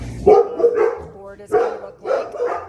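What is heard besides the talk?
dogs barking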